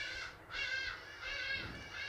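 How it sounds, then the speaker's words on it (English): Crows cawing outdoors in two long, harsh harmonic calls with a short gap between them, moderately close and clear over quiet background, no talking. "Birds."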